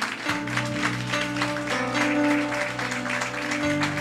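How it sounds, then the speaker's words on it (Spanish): A church congregation claps together as an offering to the Lord, with a steady, brisk clapping over sustained keyboard chords that fills the room. "¿Por qué no le da una ofrenda de palmas al Señor?"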